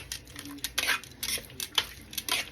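Chopped fresh jalapeno, garlic and onion being mixed into elk meat with a metal utensil, close repeated scraping and clinking strokes against a bowl in an uneven rhythm, with no talk.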